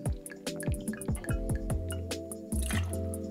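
Gin, 25 ml, poured into a cocktail shaker over lime juice and simple syrup, giving a close, steady liquid splash with dripping and a few clinks throughout.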